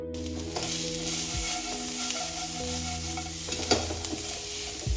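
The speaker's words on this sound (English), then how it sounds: "I'm going to fry the onions for about a minute or so" Onions frying with arrowroots (nduma) in a pan, a bright constant sizzle overlaid with a few low clunks of a utensil stirring, close up with no speech.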